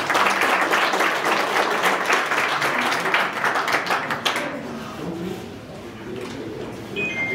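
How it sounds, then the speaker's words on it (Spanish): Applause from an audience at an award ceremony in La Mora, Jalisco, greeting a man named Lalo: dense steady clapping for about four seconds that thins and fades, leaving a quieter murmuring room. "Un aplauso para Lalo."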